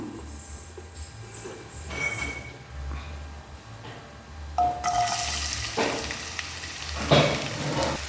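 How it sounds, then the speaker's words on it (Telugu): Chopped onions hit three tablespoons of hot oil in a pan, bursting into a loud, hissing sizzle midway that keeps crackling close up to the end. "మనం కట్ చేసిన ఉల్లిపాయలు అయితే ఈ ఆయిల్లోకి వేసుకుందాము."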